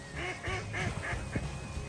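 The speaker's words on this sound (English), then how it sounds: "I don't remember the last time I seen so many ducks in one place." Ducks on a windy lake quack in a quick run of about five nasal calls in two seconds, fairly close and loud over a low wind rumble.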